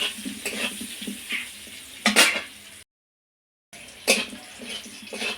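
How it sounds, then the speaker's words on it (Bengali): Potatoes frying in oil with turmeric, a close sizzle broken by scraping and stirring clatter in the pan. The sound cuts out completely for a moment, then the sizzling comes back with another sharp scrape. "খুব ভালোভাবে আলুগুলো তেলের সঙ্গে ভেজে নেব"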